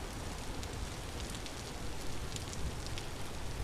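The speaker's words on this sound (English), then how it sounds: "Gosh, it's a downpour." Heavy in-game downpour in Vintage Story, a steady dense hiss of rain pattering on surfaces, constant and unbroken with no voices.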